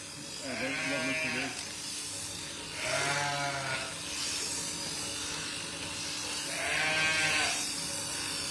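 A sheep bleats three times during shearing on a farm, each call a drawn-out wavering bleat, set over a steady mechanical hum and quiet background noise.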